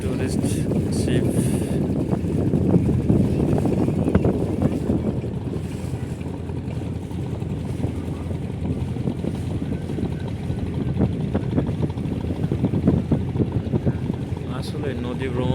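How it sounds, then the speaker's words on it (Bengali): A tourist boat's engine drones steadily on the Pasur river near Mongla, a low continuous rumble mixed with wind buffeting and water noise, sustained and fairly loud throughout. "আর এটা হলো টুরিস্ট বোট, টুরিস্ট যাচ্ছে।"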